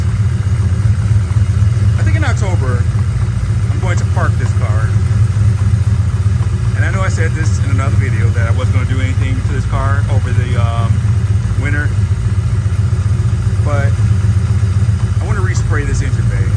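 A Ford Mustang engine idles steadily while warming up, a loud constant low rumble throughout, with someone talking over it close by.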